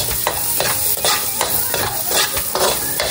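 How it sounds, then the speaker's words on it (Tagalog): Garlic and onion sautéing in leftover frying oil, a loud close sizzle broken by regular scraping stirs of a utensil against the pan, about one stroke every half second, with no talk. "Ako po ay magigisa na ng bawang at sibuyas."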